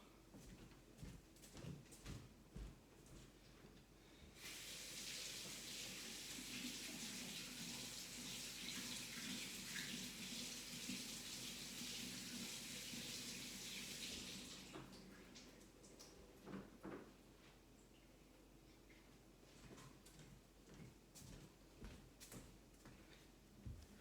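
Water from a tap runs for about ten seconds as a Japanese natural honing stone is rinsed off during razor sharpening, a steady hiss with quieter handling clatter and small knocks before and after.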